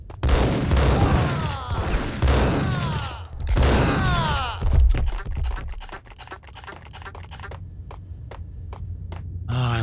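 Shotgun blasts from the video game Max Payne boom repeatedly and loudly with heavy reverberant tails, followed by a quieter stretch of rapid sharp clicks and taps.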